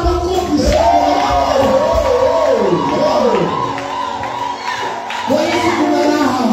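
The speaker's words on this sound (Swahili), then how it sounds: "Pigia Bwana makofi sana." A Pentecostal church congregation at a Sunday service claps and cheers in a loud, dense crowd roar with voices rising and falling throughout, shouts and whoops over steady clapping.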